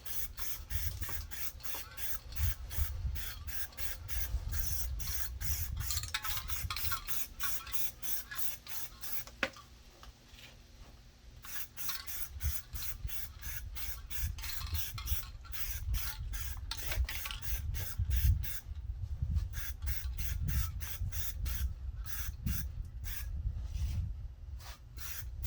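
Rapid bursts of aerosol spray paint on plastic fuel containers for off-road use, repeated hissing passes in a steady pulsing rhythm, close and fairly loud, with a brief pause midway and no talking.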